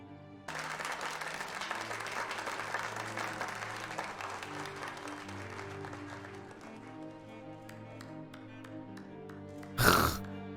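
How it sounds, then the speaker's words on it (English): Sustained clapping from a crowd in a Korean TV drama scene, dense and steady for several seconds before gradually thinning to a few scattered claps, with a sudden sharp burst near the end. "she's still over here clapping."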